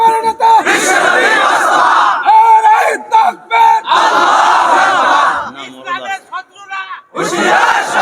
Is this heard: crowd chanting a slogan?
yes